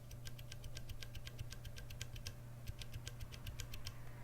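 Fingers typing on a mechanical keyboard with Cherry MX Brown switches, quick irregular clacks in steady bursts, close and fairly soft over a low background hum, no voices.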